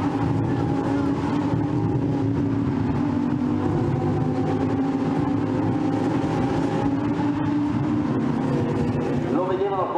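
Lamborghini Super Trofeo race cars accelerate along the track at Monza toward the Lesmos corners, giving a continuous, rising engine drone that is moderately distant, with a commentator's voice heard over it.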